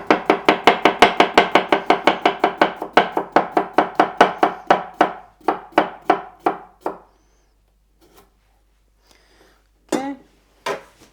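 A knife slices a cucumber on a board, rapid evenly spaced chops in a steady run that slows and thins out, then a few isolated cuts and light clinks, close and crisp with no talking.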